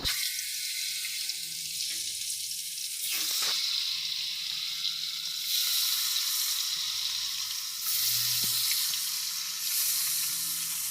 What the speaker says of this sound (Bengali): এই দেখো মাছটা এখন ভাজা দিচ্ছি আমি তেলের উপর।